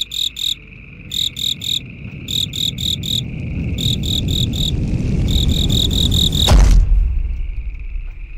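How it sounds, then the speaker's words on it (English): Repeated bursts of cricket chirps in quick groups over a steady insect hum, with a low rumbling swell building underneath and ending in a heavy thud, after which the chirping stops. "crickets."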